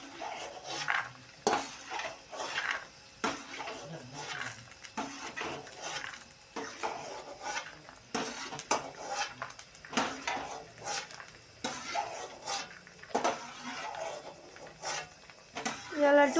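Fried okra and peanuts being scooped out of a pan with a spoon, a run of scraping and clinking strokes at close range, with a voice talking over them.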